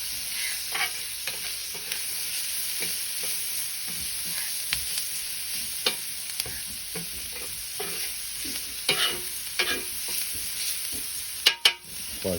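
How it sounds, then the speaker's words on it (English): Beef, prawns, vegetables and noodles fry on a Weber barbecue as a spatula stirs them, a constant sizzling hiss broken by repeated scraping clinks and a sharp clatter near the end. "Give them a stir."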